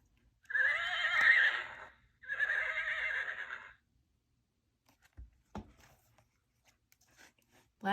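A horse named Gavin whinnies twice, close and loud: a long, wavering neigh followed by a shorter one, then quiet with a few faint thuds and clicks.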